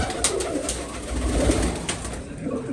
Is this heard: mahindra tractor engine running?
no